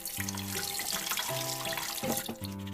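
Produce being rinsed under a running kitchen tap after its fine root hairs are scrubbed off, a steady broadband water rush with splashes, under a background of sustained musical tones.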